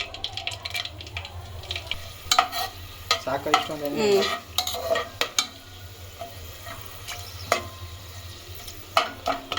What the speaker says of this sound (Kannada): ಇವಾಗ ಏಲಕ್ಕಿ ಹಾಕೋ, ಚಕ್ಕೆ ಲವಂಗ ಹಾಕೋ